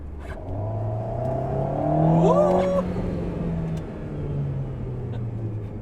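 An Alpine A110 in sport mode, heard from inside the cabin: the engine hum swells into a quick throttle blip on a downshift, then settles back to a steady drone.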